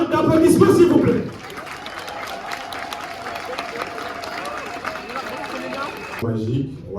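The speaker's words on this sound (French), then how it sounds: "Un tonnerre d'applaudissements, s'il vous plaît." Applause and crowd noise fill the room at a customary wedding ceremony (dowry celebration), with a loud burst of voices at first, then sustained clapping under faint talk before the voices swell again.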